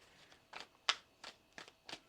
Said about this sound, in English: Let's get one more shuffle now.